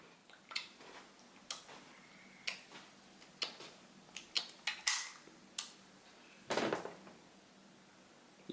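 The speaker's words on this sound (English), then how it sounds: "If you don't have a speed loader, you're gonna be slow at reloading a revolver." A revolver reloaded by hand without a speed loader: roughly a dozen sparse, crisp metallic clicks and taps as cartridges drop into the cylinder, spaced unevenly over several seconds and fairly quiet.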